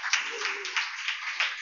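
A church congregation at a fasting prayer service claps together, a dense, steady wash of hand claps with periodic louder accents, fairly close and filling the room, with a faint voice underneath.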